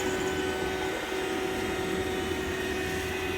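A vacuum pump draws down a refrigeration system through the low side, giving a steady, close, unbroken mechanical drone with a constant hum and no talk over it.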